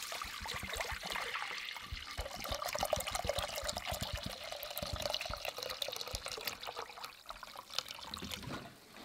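Water pours steadily into a pot for an herbal burdock root drink, a continuous splashing trickle that stays close and fairly quiet, tapering slightly near the end.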